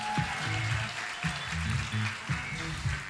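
A live audience at a CreativeMornings New York talk breaks into steady applause and cheering, a dense continuous clatter of clapping hands with a rhythmic low thumping underneath.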